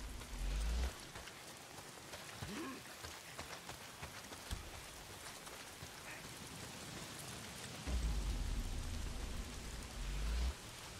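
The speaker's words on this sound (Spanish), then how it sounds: "Es la puta lluvia." Steady rain patters across surfaces in the video game Days Gone, with a few low rumbling swells rising and fading over the constant wash.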